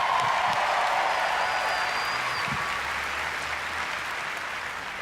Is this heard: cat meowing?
no